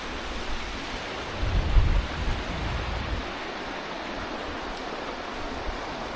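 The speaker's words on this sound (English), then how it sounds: "The waterfall." A waterfall and stream on a boggy mountain trail give a constant broad rush of water, steady and moderately close, with a brief low gust of wind noise.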